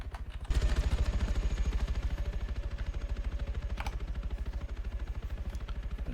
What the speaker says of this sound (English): So let's follow the CSAT heli.